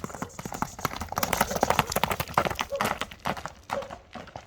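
A horse clip-clops at a brisk pace along a stony road, hooves striking in quick, uneven rhythm close by, with people talking over the hoofbeats.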